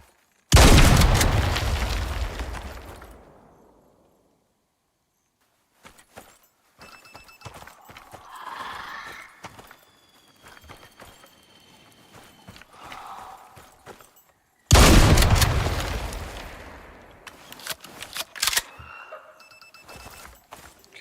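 Two loud shotgun blasts ring out in the survival video game Icarus, about fourteen seconds apart. Each blast has a long, booming decay, and quieter footsteps and game noises fill the gap between them.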